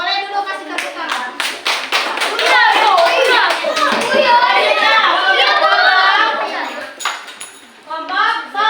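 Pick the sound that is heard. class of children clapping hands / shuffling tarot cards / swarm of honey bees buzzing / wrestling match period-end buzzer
class of children clapping hands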